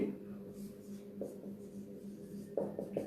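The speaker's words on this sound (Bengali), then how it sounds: "স্পষ্ট করে লিখি" Chalk or marker strokes on a board during a grammar lesson, a few short scratchy bursts near and moderately loud over steady room tone, with no talking.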